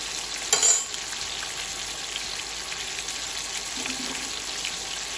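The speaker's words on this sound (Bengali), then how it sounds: "একটু আমি হতে দেবো, মাছটা ফ্রাই হোক।" Small roe-filled bata fish frying in hot oil, a steady fine crackling sizzle close by, with a brief louder splash of spitting oil near the start and a soft clink later, no voices.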